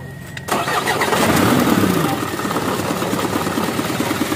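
An Isuzu Elf truck with a low-power, no-RPM wiring problem cranks and starts, its diesel engine catching abruptly and settling into a steady, loud idle rumble.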